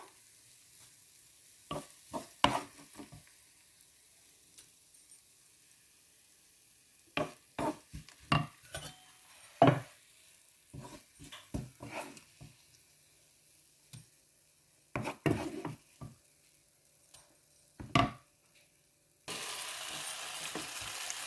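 A spoon stirs long bean and potato curry in a pan in scattered bursts of scraping and soft sizzling, close and fairly quiet, with gaps of near silence and a steady hiss near the end.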